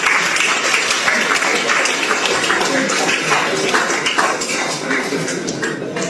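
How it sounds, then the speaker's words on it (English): Applause from an audience for a student entrepreneur, a dense, steady clatter of many hands clapping throughout, fairly loud and close, fading slightly toward the end. "Can you give a big round of applause?"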